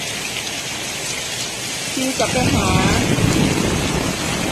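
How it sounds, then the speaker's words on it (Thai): Heavy rain pouring down outdoors in rural Thailand, a loud continuous hiss that swells midway, with someone speaking briefly over it. "ได้ยินเสียงฝนไหมคะทุกคน"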